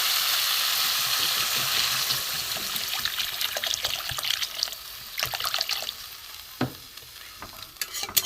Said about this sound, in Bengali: এবার আমি এতে জল দিয়ে দেবো, অল্প করে জল দেবো